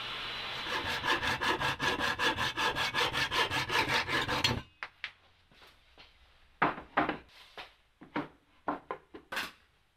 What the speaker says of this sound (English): We'll cut most of the way with the table saw and then finish it up with the pull saw.